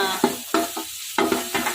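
Chicken curry tempering crackles in a pan with repeated sharp bursts of sizzle and stirring scrapes at close range, about five distinct spurts over a steady frying hiss, with no talking.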